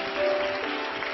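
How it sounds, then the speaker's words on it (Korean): A church congregation at Onnuri Church breaks into a brief, dense wash of applause in the sanctuary, heard alone without speech. "뜨거운 박수로 한번 축복해 주십시오."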